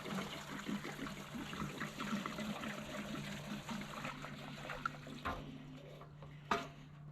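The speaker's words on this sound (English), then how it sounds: "Let's get some gas in this beauty and see if it's going to fire up" Gasoline pouring into the tank of a 1950s barn-find Schramm air compressor, a continuous trickling gurgle at moderate distance that thins toward the end, with a faint steady hum underneath and a brief knock.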